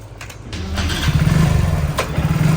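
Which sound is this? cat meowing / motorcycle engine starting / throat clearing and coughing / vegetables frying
motorcycle engine starting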